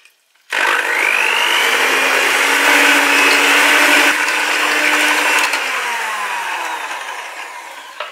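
An electric mixer whirs loudly and steadily, beating semolina batter for a cheese pie while milk is poured in slowly. It starts abruptly, holds for about seven seconds and eases slightly toward the end, with no talking.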